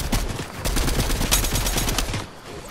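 Rapid automatic gunfire in a squad shooter video game, loud dense bursts of shots rattling continuously for a couple of seconds before tapering off.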